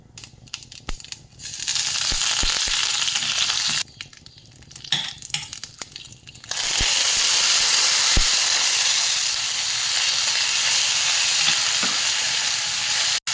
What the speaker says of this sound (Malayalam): കടുക് പൊട്ടാൻ തുടങ്ങുമ്പോൾ നമുക്ക് കറിവേപ്പിലയും കൂടി ഇടണം.